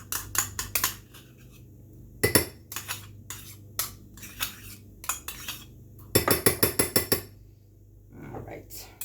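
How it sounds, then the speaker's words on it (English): Metal spoon clinks and scrapes repeatedly against a dish while sour cream is scooped in for creamy fish fillets, sharp knocks coming in quick clustered bursts close by. "I'm gonna grab a spoon and all of this goes in here"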